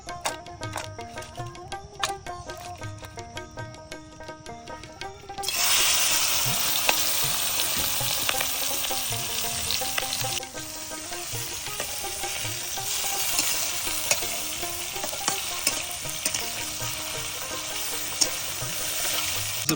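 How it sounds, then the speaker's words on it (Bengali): River shrimp seasoned with turmeric, chili and salt fry in mustard oil. A softer crackle with clinking stirs swells abruptly into a loud, continuous sizzle that holds steady to the end, close up and with no speech. "আজকে আমাদের নদীর চিংড়ি মাছ রান্না হচ্ছে সরিষার তেল দিয়ে"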